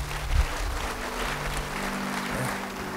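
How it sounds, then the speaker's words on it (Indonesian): A church congregation claps for God during a sermon, a steady, moderately loud patter of many hands in a reverberant hall, with a low hum beneath. "beri tepuk tangan buat Tuhan"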